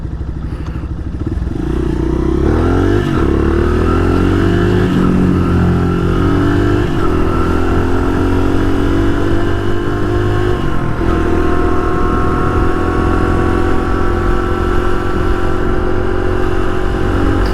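A street-legal dirt bike engine, freshly given a top-end rebuild, runs close and loud, revving up and holding a steady high buzz with rising and falling pitch.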